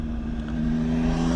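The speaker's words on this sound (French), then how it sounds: "il y a plein de motards qui roulent parce qu'on est samedi" Vehicle engine noise from motorbikes riding along a road on a Saturday, a steady low droning hum held throughout at moderate level with no talk.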